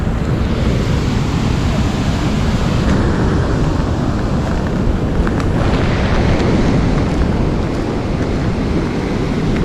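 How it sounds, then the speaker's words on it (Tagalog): Strong floodwater roars over a blocked, overflowing spillway at a detour in Laurel, Batangas, after days of rain: a loud, unbroken, close rushing torrent with no pauses. "Ang lakas ng daloy ng tubig"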